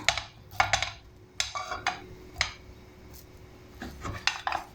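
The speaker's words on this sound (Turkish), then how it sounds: "tavamın kenarlarını kaşıkla topluyorum" A spoon scrapes cold porcelain clay dough from the edges of a pan in short, close, irregular scraping strokes separated by quiet gaps.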